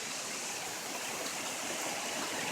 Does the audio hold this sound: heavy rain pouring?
yes